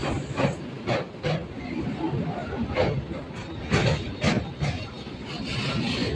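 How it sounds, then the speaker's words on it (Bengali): A train rumbles steadily across Kolkata's Vivekananda Setu bridge at night, with a loose rhythm of sharp metallic clanks and clatters over a constant hissing roar. "ট্রেন যখন যায় যে একটা শব্দ হয়, এই শব্দটা শুনতে আমার বেশ দারুণ লাগে"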